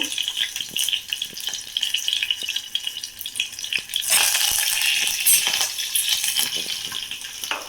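One dry red chilli and one green chilli fry in a pan of hot oil, a steady sizzle that turns louder and denser partway through, with light clinks of a utensil.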